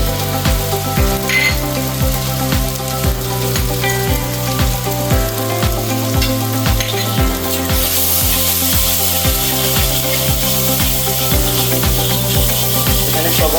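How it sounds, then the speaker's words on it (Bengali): Ground spices with chili and coriander powder fry and get stirred in oil in a pan, a constant sizzle with scraping under loud stepped background music. "মশলা কষিয়ে নিচ্ছে আমার ভালো করে কষানো শেষ"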